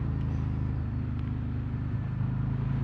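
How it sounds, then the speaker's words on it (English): Riding a 2024 Harley-Davidson Road King touring motorcycle: a steady low engine rumble blended with road roar and air-breather intake rush, continuous and fairly close, with no talking. "So mainly what I'm hearing is road and this air breather."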